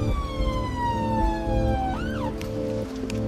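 An ambulance siren wails steadily in a falling tone, then flips into a rising yelp, heard close over the low rumble of the vehicle's engine on the road.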